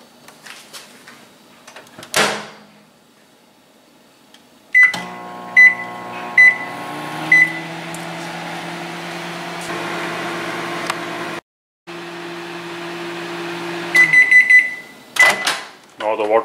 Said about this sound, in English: I will put it in the microwave for 2 minutes